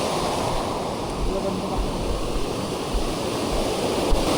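A swollen river in Konkan, running high after heavy monsoon rain, gives a steady, close, broadband rushing roar with no breaks throughout.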